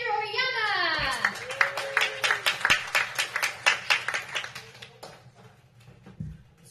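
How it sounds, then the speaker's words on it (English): A comedy club audience bursts into applause after a brief spoken announcement introducing a comedian, a rapid rhythmic clapping that swells and then tapers off. "Please start clapping for Andrew Oyama."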